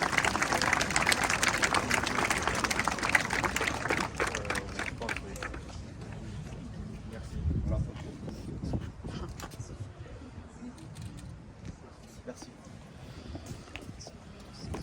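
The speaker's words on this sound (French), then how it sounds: "On applaudit les jeunes." An audience applauds young volunteer firefighters at a French National Order of Merit anniversary ceremony, a dense patter of clapping that is loudest early, then thins and fades under the murmur of a voice.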